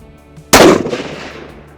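A single loud Steyr SSG 08 rifle shot in .338 Lapua Magnum, close and sharp, cracking after a quiet lead-in and trailing off in a long rumbling echo.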